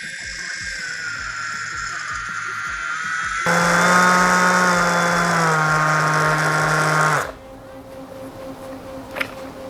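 A Dewalt DCW210N cordless orbital sander spins up with a loud, steady whine for several seconds after some rattling handling noise, then cuts off abruptly, leaving a quieter hum.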